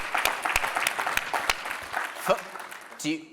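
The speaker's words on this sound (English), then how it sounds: "Let's give him a round of applause." Scattered clapping from a small audience, with a few sharp distinct claps fading out, then a voice speaking at the end.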